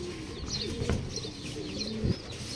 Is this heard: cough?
no